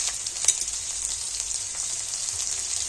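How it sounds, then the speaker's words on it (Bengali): Whole cumin, garlic and ginger frying in oil in a pan, with a steady bright sizzle throughout and a few faint clicks, no voices. "তো সমস্ত কিছু আর একটু ভেজে নেব"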